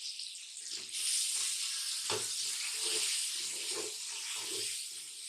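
Spices with tomato are fried bhuna-style in a pan for beef paya, a steady close sizzle and hiss broken by repeated scraping and pressing strokes of a spoon.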